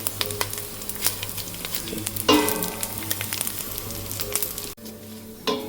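Edible gum (dink) frying in ghee, a close, continuous crackling sizzle with bursts of popping as pieces puff up, a brief louder flare mid-way and a sudden drop near the end.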